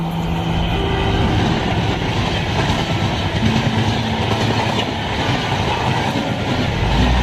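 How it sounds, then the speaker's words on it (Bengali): A fast train rushes past a graveyard beside a temple in Birbhum, a steady loud roar of wheels and rail clatter filling the whole stretch without a break. "তার পাশ দিয়ে ছুটে চলেছে দুরন্তগামী ট্রেন"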